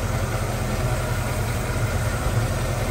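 A 1968 Ford Mustang's 289 V8 with a two-barrel carburetor idles in a steady low rumble with a faint uneven lope, close and continuous.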